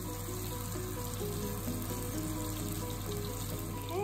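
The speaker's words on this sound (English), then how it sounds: "I'm gonna fry them in olive oil because I think that'll help them crisp up and stay together better" Bean balls frying in Kalamata olive oil in a pan, a steady, fairly quiet continuous sizzle with a low constant hum underneath and no talking.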